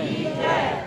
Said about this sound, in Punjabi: ਥੋੜ੍ਹੀ ਜਿਹੀ ਉੱਚੀ ਆਵਾਜ਼ ਚ ਬੋਲਿਓ ਜੈਕਾਰਾ